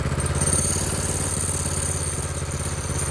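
A vintage go-kart's small engine runs right up close, a steady buzzing putter with a fast, even firing rhythm that holds throughout.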